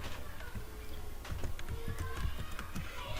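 Typing on a computer keyboard while making labels in MS Word, a quick, irregular patter of soft close clicks over a faint background hum.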